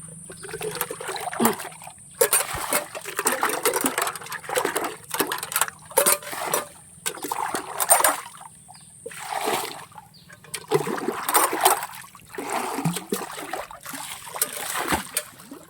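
Pieces of cut fish are washed by hand in water, giving repeated close splashing and sloshing bursts roughly every second, separated by short quiet gaps.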